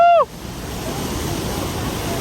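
Ceunant Mawr waterfall in Llanberis roaring steadily, heard just after a short whooping shout.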